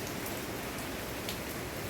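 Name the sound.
heavy rain falling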